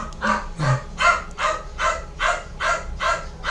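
Dog barking in a steady, rhythmic series of about eight barks, evenly spaced and close, alone with no talking.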